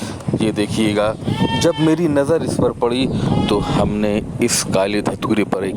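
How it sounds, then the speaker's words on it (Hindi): Goats bleat in a Lalitpur district village while someone speaks loudly in Hindi almost the whole time, the animal calls mixed in under and between his words. "आपको बकरियों की आवाज़ें भी सुनाई दे रही होंगी"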